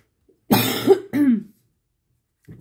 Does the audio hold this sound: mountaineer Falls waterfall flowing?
no